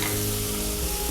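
Onion, tomato, ginger and garlic roasting in a hot pan, a continuous dense sizzle with no pauses and no voices, close and steady throughout.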